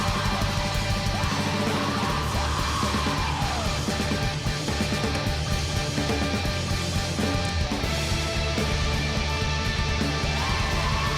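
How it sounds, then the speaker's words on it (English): Fast black metal blast beat drumming from a Liturgy song, a dense, loud wall of rapid drums, distorted guitars and shrieked vocals running continuously throughout. "Blast beats. I was wondering when they were going to come in."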